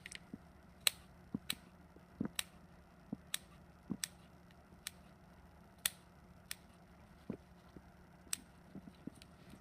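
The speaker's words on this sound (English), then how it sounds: "I think I'm going to go ahead and cut the diaphragm." Scissors snipping through a pig's diaphragm during a dissection, a series of sharp, close clicks and cuts spaced irregularly over a quiet background, with no talking.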